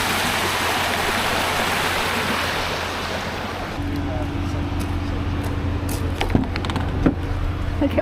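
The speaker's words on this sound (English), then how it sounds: "you can hear the creek too. Creek, right behind us." Moonshine Creek runs behind an RV campground, giving a steady broadband rushing wash that is fuller early on, then softens beneath a low engine-like hum with a few scattered clicks and knocks.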